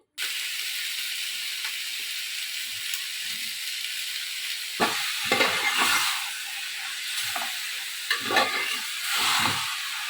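Chicken pieces, rubbed with salt and turmeric, fry with a steady close hiss in a pan, broken by several bursts of scraping as they are stirred.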